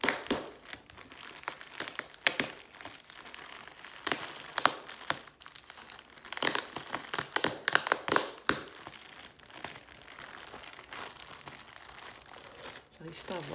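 A fragile advent calendar package wrapped in bubble wrap is unwrapped up close, with repeated loud crinkling and crackling bursts of plastic that come in uneven clusters, with some quiet talking in places.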